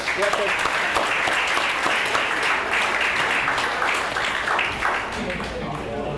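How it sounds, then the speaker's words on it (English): Sustained, dense applause from an audience thanking the caterers at an InfoAge event, steady and loud throughout the whole stretch with a slight easing toward the end. "we'd like to applaud them"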